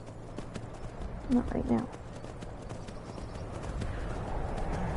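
Horse hooves clip-clop in Skyrim, a few distinct thuds of a horse nearby with a faint whinny, while a voice speaks briefly over a steady outdoor background.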